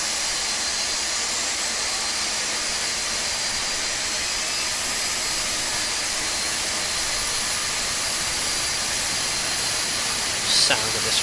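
Boeing 747-200 jet engines running in the X-Plane 12 flight simulator make a steady, loud broadband roar with a constant hiss throughout, and a short sharp click sounds near the end.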